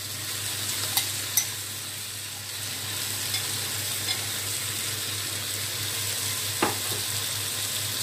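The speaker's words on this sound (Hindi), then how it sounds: "अब मैं इस तरह से दाल डाल रही हूँ" Lentils tipped into spices already frying in a pan for vegetable-loaded khichdi, giving a steady close sizzle with a few sharp clinks and scrapes of stirring.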